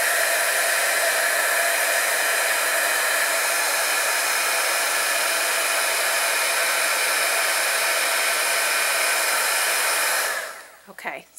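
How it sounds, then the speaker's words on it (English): Heat gun blowing hot air over a powdery embossing coating on a craft gift tag, a loud, steady whooshing roar held for about ten seconds before cutting off abruptly. "The heat gun is going to be pretty noisy"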